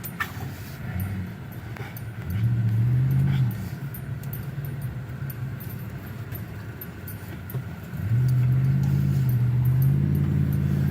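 A car drives with its gas pedal pressed, its engine rumbling low and surging louder twice as it accelerates, amid a steady background roar.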